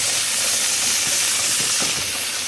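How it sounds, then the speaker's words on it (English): Steam vents steadily from a Presto pressure canner, a loud continuous broadband hiss with no breaks, close and alone. "wait for the pressure to come all the way up and for steam to vent for 10 minutes"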